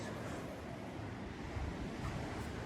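Sea heard from inside a coastal cave: a steady, dense wash of surf and rumbling water with wind noise, constant and fairly loud, no voices.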